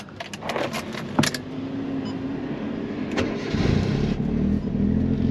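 A Suzuki Cappuccino's small engine cranks with a few clicks on a cold day and then catches, settling into a steady low idle that grows slightly louder.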